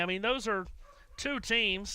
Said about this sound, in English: We were always going to get some dogs barking today